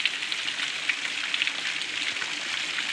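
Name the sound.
water spray from Parang Kikis waterfall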